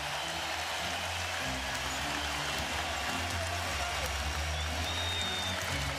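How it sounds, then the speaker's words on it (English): A basketball arena crowd at the 2008 NBA Finals roars steadily late in the third quarter, a dense continuous wash of cheering and noise filling the whole span without breaks. "Crowd on its feet as we wind down quarter number 3."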